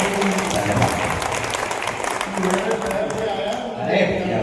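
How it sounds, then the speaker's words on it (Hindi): Audience at a Mahaveer Jayanti kavi sammelan in Jaipur claps with raised hands during a veer ras poetry recital, a dense, steady wash of applause lasting throughout, mixed with voices talking over it. "दोनों हाथ ऊपर उठाकर तालियां बजाकर"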